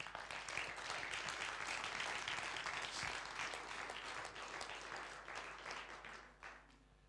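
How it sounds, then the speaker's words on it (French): Sustained audience applause fills a hall at an educational innovation award ceremony, dense clapping steady throughout and tapering slightly near the end. "je voudrais que, si vous le voulez bien, vous applaudissiez tous les gens et tous les organismes que je viens de citer"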